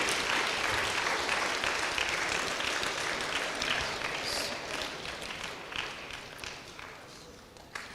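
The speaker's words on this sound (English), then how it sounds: "ಗಟ್ಟಿಯಾಗಿ ಚಪ್ಪಾಳೆ ತಟ್ಟಿ ದೇವರಿಗೆ ಧನ್ಯವಾದ." Church congregation clapping loudly in thanks to God during a prayer session, a dense, sustained burst of many hands that gradually thins and fades toward the end.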